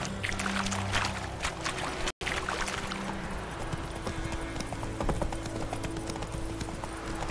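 Horse hooves galloping in the video game The Witcher 3: Wild Hunt, a fast continuous clip-clop of hoofbeats over steady ambient noise, close and even in rhythm.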